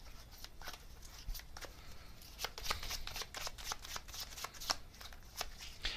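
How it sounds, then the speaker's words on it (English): A deck of tarot cards shuffled and drawn at close range, soft rapid riffling and flicking that repeats in quick irregular bursts over a low room hum. "let me get another card here"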